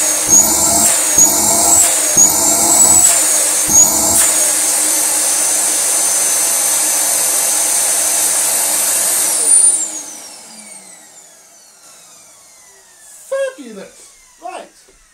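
A Dyson DC14 upright vacuum cleaner motor runs with a loud, steady high-pitched whine and some bumping handling noises, then spins down and fades out, followed by faint clicks.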